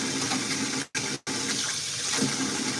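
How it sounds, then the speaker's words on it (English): Tap water runs into a single kitchen sink while dishes are washed, a steady close hiss and splash that cuts out twice briefly before flowing on. "Sorry for the noise of my water."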